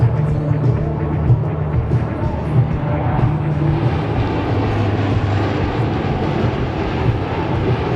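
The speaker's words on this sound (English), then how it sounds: "From our right, the high-speed pass in the C-130J Hercules." Lockheed C-130J Hercules making a high-speed pass at the 2022 Canadian International Air Show in Toronto: a loud, continuous roar of turboprop engines and propellers sustained throughout, with no talk.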